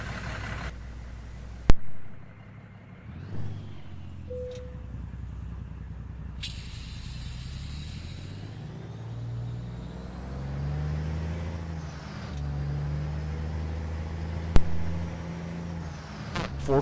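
Cummins-engined custom Peterbilt 389 with a mod engine sound in American Truck Simulator, a steady low diesel rumble and idle that rises and swells as the truck pulls away, with a few sharp clicks, heard alone.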